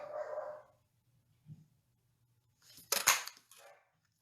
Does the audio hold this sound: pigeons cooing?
no